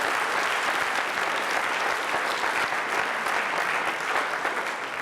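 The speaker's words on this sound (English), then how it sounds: "let's give your parents a big round of applause" Big, sustained round of applause from the crowd for players' parents at a football awards event for the 2019 season, a dense, even wash of clapping throughout.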